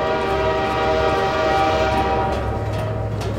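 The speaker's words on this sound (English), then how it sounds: "Come on, train." A train arriving in Half-Life 2, its loud sustained horn-like tone ringing steadily over rumbling rail noise, close and unbroken for several seconds with no talk.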